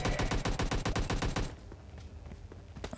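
Rapid bursts of automatic gunfire in PUBG Mobile Lite rattle loudly for about a second and a half, then give way to quieter scattered shots and game noise.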